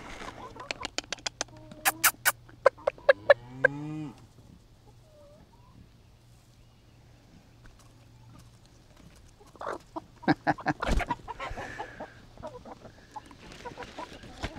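Backyard chickens cluck and squawk in scattered bursts close by, with a long quiet gap in the middle and a person speaking briefly at points.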